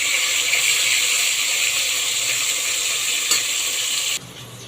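Fish frying in hot oil gives a loud, steady hissing sizzle close by, continuous for several seconds with a faint clack, then the sizzle drops sharply near the end; no talking.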